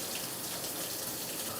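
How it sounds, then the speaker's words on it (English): Warm water running from a tap while a dog waits to be bathed, a steady loud gushing rush close by, continuous with no pauses and no talking. "I'm gonna turn the water on."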